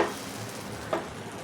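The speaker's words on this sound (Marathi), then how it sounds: "सगळे पराठे आहेत ते मी भाजून घेते" Kulu leaf parathas roasting on a hot griddle, a steady close sizzle with a brief soft scrape partway through, no talk.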